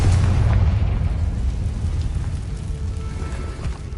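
A Confringo spell blast in Hogwarts Legacy bursts loudly at the start, then a deep rumbling boom decays into crackling debris and a fading hiss.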